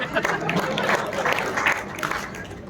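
An audience at a live comedy mimicry performance claps and cheers in a dense, steady wash of applause with a murmur of crowd noise underneath.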